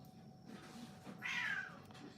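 A cat meows once, a drawn-out, fairly loud cry rising over steady room noise during an indoor painting stream.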